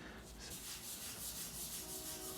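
Soft, steady rubbing of a cloth applying sander sealer to a turned Blue Mahoe and American cherry bowl, a quiet continuous hiss with a gentle pulsing rhythm.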